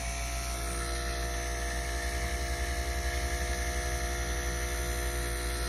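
An Andis reVITE hair clipper runs with a steady, loud electric buzz and a slight pulsing flutter, close and continuous with no talking.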